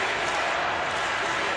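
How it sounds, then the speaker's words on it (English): Hungarian home crowd at a European Championship water polo match between Malta and Hungary, a dense, continuous roar of supporters chanting for a player. "And the home crowd is chanting the name of Viktor Nagy"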